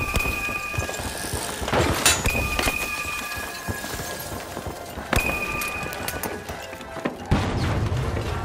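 Grenade blast in THE FINALS video game, a sharp loud crack standing out among several bangs and impacts over busy in-game noise with steady clatter and tones, no voices.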